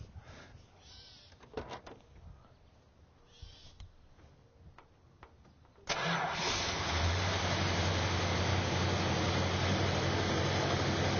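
A 1969 Dodge Daytona Special Edition engine cranks and catches at once, then settles into a loud, steady, rumbling idle that continues to the end after a few quiet clicks and shuffles.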